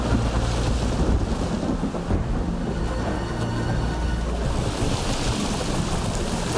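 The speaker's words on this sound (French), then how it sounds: "Il semblerait que nous soyons au cœur d'une tempête sans fin." A thunderstorm at sea, loud and unbroken: heavy rain and wind roar with low thunderous rumbling swelling throughout, no voices heard.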